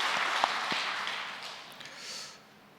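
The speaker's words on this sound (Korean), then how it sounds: "하나님께 영광의 박수를 올리겠습니다." A church congregation applauds during a Sunday worship service, a broad wash of clapping that holds steady and then fades out near the end.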